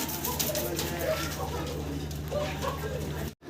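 Yellow short-face pigeons coo softly nearby in low, repeated bursts under a steady background hum. Someone talks over the cooing.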